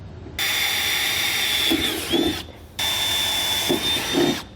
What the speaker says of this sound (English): So we can go ahead and start drilling the rest of our pilot holes.